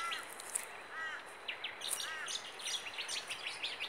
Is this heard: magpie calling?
yes